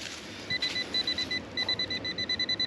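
A metal detector sweeping for buried treasure emits a series of short, high electronic beeps in quick rhythmic bursts, one steady run then a second faster run, moderately loud over faint background hiss, with no talking.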